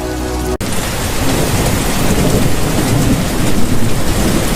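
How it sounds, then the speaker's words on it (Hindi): Heavy rain pours down in a constant roar, with a rumble of thunder rolling through it after a brief sharp cutoff. "तेज बारिश के कारण रामू भी बिना रुके अपने घर की ओर बढ़ गया।"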